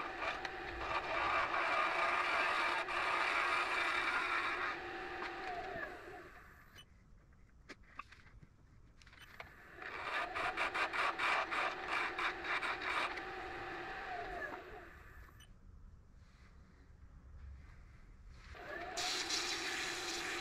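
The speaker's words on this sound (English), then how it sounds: "I've just taken the tool back, scraping away all that finish, taking back a little bit of the wood." Hand scraper stripping old finish from a wooden piece, a steady dry rasping in long bursts separated by short pauses, close and moderately loud with no talking.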